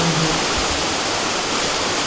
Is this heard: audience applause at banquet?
no